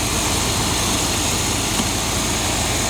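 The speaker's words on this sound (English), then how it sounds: "It sounds fantastic. Incredible engine." A restored 1980 Corvette C3 V8, originally an L48 and brought up to L82 specs, runs steadily at idle with a loud, constant low rumble and no break in the sound.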